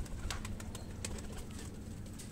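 A parwazi high-flyer pigeon coos softly and repeatedly at close range, low murmuring calls over a steady background with a few faint chirps.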